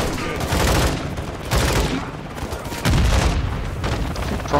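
Sustained gunfire in Call of Duty: Modern Warfare 2 (2022), loud dense bursts of shots and booms rolling continuously in waves, with speech faintly mixed underneath.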